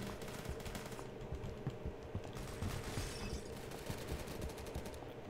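Rapid gunfire crackles almost nonstop through a Roblox Phantom Forces battle, dense overlapping shots, both near and distant, forming a steady fusillade with no talking.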